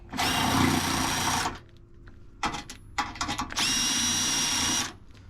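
Impact tool spinning out brace bolts on a second-generation Dodge Ram, two long loud whirring runs with a cluster of short trigger blips between them, up close and without talking.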